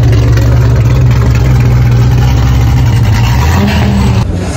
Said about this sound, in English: we got the insane Corvette now driving.